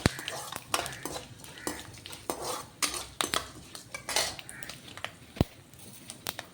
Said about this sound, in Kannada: ಸ್ವಲ್ಪ ಸಾಸಿವೆ, ಸ್ವಲ್ಪ ಮೆಂತ್ಯ. ಇದನ್ನೆಲ್ಲ ಚೆನ್ನಾಗಿ ಫ್ರೈ ಮಾಡ್ಕೊಳ್ಳಿ.